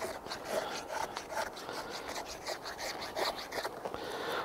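A TOPS Tom Brown Tracker T4 knife rasps and scrapes along wood while carving a dowel, a close, continuous run of repeated shaving strokes without talk.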